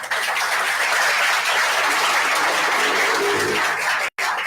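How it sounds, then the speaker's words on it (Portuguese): A church congregation applauding, dense continuous clapping that fills the space loudly and evenly for several seconds before cutting off abruptly near the end. "Aplauda o teu Deus, aplauda."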